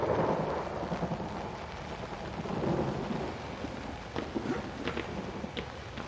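Steady rain and low rumbling thunder fill a scene in the horror video game Outlast, with scattered close raindrop taps over a continuous wash of rainfall.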